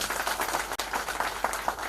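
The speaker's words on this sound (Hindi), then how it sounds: "ताली होनी चाहिए महापात्रा जी के लिए" Audience applause for Mahapatra at a speech event in Odisha, a short steady burst of many people clapping together at moderate loudness.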